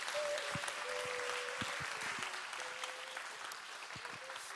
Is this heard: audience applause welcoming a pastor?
yes